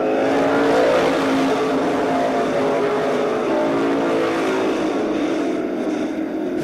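Stock cars race at Columbus Motor Speedway, their engines a loud, continuous roaring drone from the pack that holds steady throughout.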